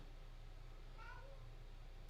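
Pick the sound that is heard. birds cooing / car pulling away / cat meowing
cat meowing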